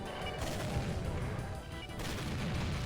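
Explosions and gunfire from the video game Doom fill the whole stretch, a dense loud barrage of blasts and shots with a brief dip partway through before it swells again.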